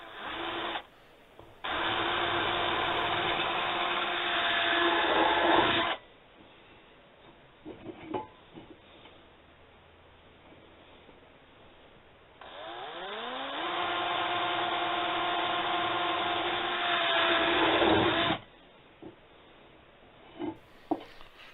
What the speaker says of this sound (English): So drill the holes, 1/4 inch bolt, 1/4 inch drill bit